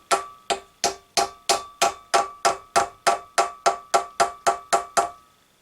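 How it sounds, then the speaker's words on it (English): A steady series of sharp hammer strikes on a metal part of an electric moped during stripping, about three per second, each ringing briefly, close and loud with no talking. "Are you going to fly when I hit you with a hammer?"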